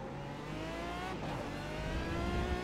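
An Aston Martin DBR9 GT1 race car engine at Donington Park roars close and loud, its pitch climbing steadily under hard acceleration with a brief shift midway.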